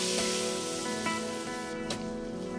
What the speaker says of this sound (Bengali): আমি এখানে গরম জল দিচ্ছি।